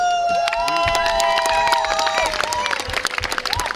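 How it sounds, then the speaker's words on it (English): Audience applause at the closing and award ceremony of a dog sports event, crisp dense clapping mixed with cheering and excited voices, with bright whistling or vocal tones gliding above it. "let's also give a round of applause to all the other participants"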